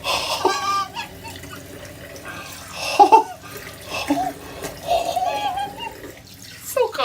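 A bathroom tap runs cold water for rinsing during a shave, a steady wash of splashing under a voice, with exclamations and a laugh breaking through.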